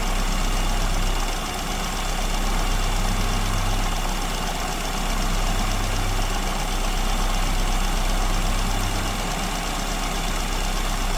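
A car engine idles steadily near 1,000 RPM during idle mixture adjustment from a too-lean setting, a loud continuous hum with slight periodic rises in the low drone.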